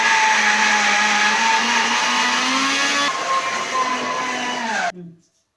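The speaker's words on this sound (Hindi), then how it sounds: "देखिए मिक्सी में हमने ये पीस लिया है, ये खूब बारीक महीन हो गई है।" A mixer grinder grinding amla whirs steadily at high speed for about five seconds, loud and close, then winds down and stops.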